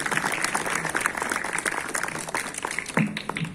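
An audience applauds at a Carabinieri commander's address and wreath-laying ceremony in Macchia, with steady, moderately close clapping and a few voices mixed in.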